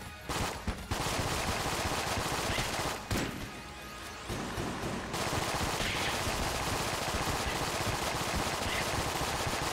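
Rapid automatic gunfire from the Enter the Gungeon video game, a dense, loud stream of shots that runs nearly nonstop, with a brief lull partway through before the firing resumes.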